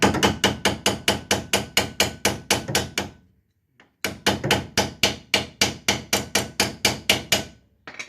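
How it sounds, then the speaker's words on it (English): A hammer smacks a steel part on a 1966 Dodge Dart GT barn-find car under restoration. Two runs of rapid, evenly spaced metallic blows, each ringing briefly, are separated by a short pause. The blows are loud and close. "I should just do what I normally do and smack it with a hammer."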